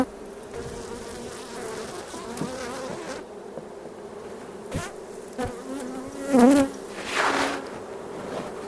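Honey bees buzz steadily around an opened hive of fresh white comb and brood, a dense close drone with a few louder passes of single bees near the end.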